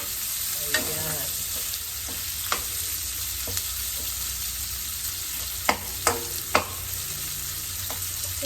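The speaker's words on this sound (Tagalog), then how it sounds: "At nag-brown na yung ating pork." Pork browns in a pan for pancit with a constant frying sizzle, broken by a few scraping stirs and sharp clinks of a utensil against the pan.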